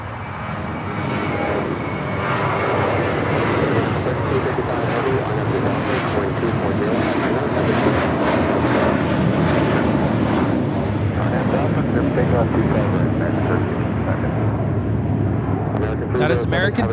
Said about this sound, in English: That is American 307 taking off to JFK on the A321.